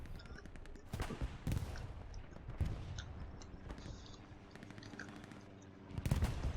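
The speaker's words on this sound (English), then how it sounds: "now we got artillery starting to land shells on the Panther" Artillery shells land in bursts around a Panther tank in a tournament match of a World War II video game, sharp booming impacts clustered near the start and again at the end over a steady battlefield rumble.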